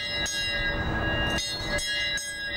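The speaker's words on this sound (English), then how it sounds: "Bruce Lambert, a veteran, took a position overlooking the memorial, ringing a bell" A bell rung by a veteran at a downtown memorial wall, struck in repeated clear rings with sustained ringing tones, several strokes over a steady outdoor background.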